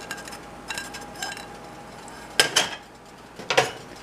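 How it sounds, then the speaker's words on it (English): A spoon stirs turkey chili with kidney beans and sweet peppers in a pot, a few quiet scrapes followed by two louder metallic clinks against the pot, with no talk. "Gonna give it a good stir."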